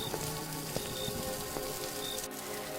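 Night rain falling in a cartoon, a steady wash of pattering drops with a few sharper plinks scattered through, even and moderately quiet, with no voices.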